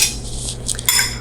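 Bruschetta mixture with olive oil and balsamic vinegar being tossed in a bowl, giving a few quick clinks and scrapes of utensil against dish, close and clear with no talking.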